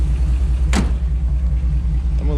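LS-swapped 1978 Chevrolet Malibu engine idling steadily nearby with a low, even rumble, a brief whoosh cutting through partway.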